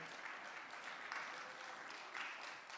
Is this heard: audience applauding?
yes